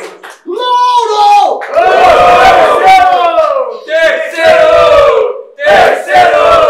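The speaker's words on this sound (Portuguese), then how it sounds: "Barulho para as rimas de Lincoln" Loud crowd cheering and shouting at a rap battle semifinal, sustained roaring voices with brief dips before surging again, filling the whole stretch.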